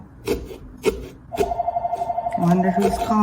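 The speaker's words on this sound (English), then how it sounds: "that's my parents' phone" A home landline telephone rings with a rapid warbling electronic trill that starts partway in and keeps going, fairly close, after a few scraping knocks, with people talking nearby.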